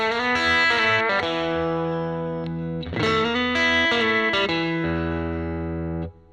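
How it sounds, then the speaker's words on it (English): A modified Fender '51 Nocaster electric guitar plays through its neck pickup, giving sustained, distorted chords and notes at a loud, steady level before the sound cuts off at the end. "Listen to that balance between the neck and the bridge."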